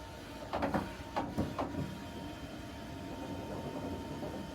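Air Toobz toy pushes balls through clear air tubes, giving a steady blowing hiss with a few quick whooshing bursts as balls zip past early on, then a continuous fan-like rush.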